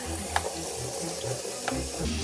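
A water tap runs steadily, rinsing soil off a freshly harvested radish, with a couple of faint clinks over the continuous splashing flow.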